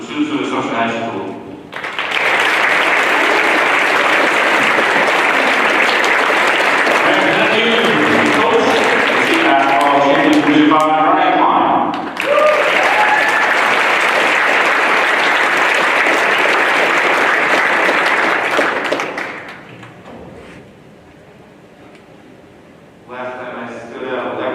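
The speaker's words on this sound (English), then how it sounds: "big round of applause for yourself, for the parents, for the students of Assumption High School" A crowd at the Assumption High School state championship celebration breaks into loud, sustained applause, a long dense wave of clapping that dips briefly, surges again, then fades out near the end.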